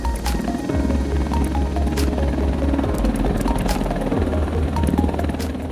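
A Boeing AH-64D Longbow Apache attack helicopter flies close by, loud and steady, its rotor throbbing in a continuous pulsing beat over a deep engine drone with a buzzing whine, and no voices.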